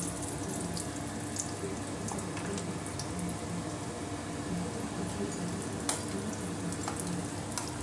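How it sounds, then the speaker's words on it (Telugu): Almonds frying in two spoons of ghee for coconut laddu give a steady, dense sizzle that runs evenly throughout, with a few faint clicks on top and no voices. "బాదం ఫ్రై చేసుకుందాము."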